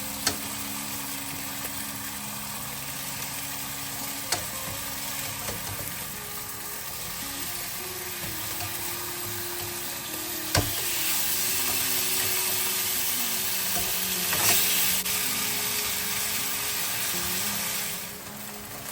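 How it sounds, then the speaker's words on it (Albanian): Fish fillets fry in a pan with a continuous crackling sizzle that grows noticeably louder and fuller partway through, with no talking over it. "Do t'i kthejmë nga njëra në tjetrën derisa të skuqen."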